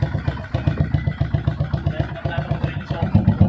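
A 180cc motorcycle engine with smoke and leaking oil runs close by, a steady, even chugging beat of rapid pulses that repeats without pause.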